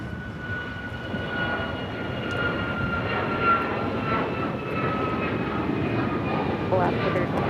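A Boeing 777 taxis at LAX, turning onto a taxiway, its steady jet engine rumble and whine carrying at moderate distance across the airfield with faint background noise throughout.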